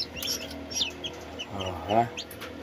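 Soft Brahma chicken clucks and a few faint chirps over a low background hum, with a short louder run of clucking near the end.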